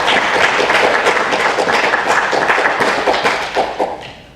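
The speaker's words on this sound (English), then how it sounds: "give them both a round of applause" Loud, close round of applause from the audience at a club chapter event honouring two members, dense steady clapping that thins and fades toward the end.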